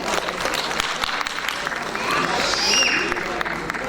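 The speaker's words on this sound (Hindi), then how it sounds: "एक बार फिर तालियों के साथ हम अभिवादन करें" An audience at a literary award ceremony claps and applauds, a dense, steady wash of many hands that swells a little near the end.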